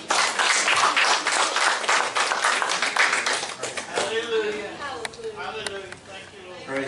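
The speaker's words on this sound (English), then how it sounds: "Y'all give him a hand clap this morning." Church congregation clapping hands on a Sunday morning, a brisk rhythmic burst of many claps that fades after about four seconds as voices take over.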